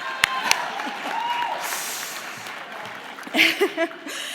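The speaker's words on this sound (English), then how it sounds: "So, applaud for Tyler." Graduation audience at Life University applauding a graduate, moderate steady clapping at a distance with a few sharp knocks and brief voices near the end.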